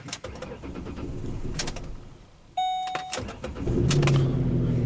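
An old Ford Explorer engine cranks and catches partway through, with a sharp onset followed by a steady idle that rises into a rougher, louder run near the end, amid door and cabin noises close by.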